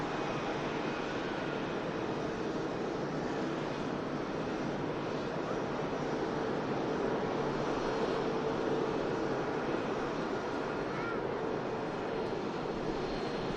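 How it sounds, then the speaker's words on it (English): Gulf Air Boeing 787 Dreamliner departing Manchester Airport, a steady broad jet roar heard from a distance, constant and unbroken throughout with no talk. "we've got the Gulf Air Dreamliner. Another dreamy on the streamy. Heading off to Bahrain"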